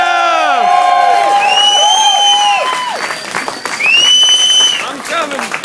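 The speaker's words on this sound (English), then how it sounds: "let's give him a big round of applause" A crowd at a Portland motorcycle culture show greets a man from CC Motorcycles with loud applause, long rising and falling whoops and cheering shouts layered over the clapping.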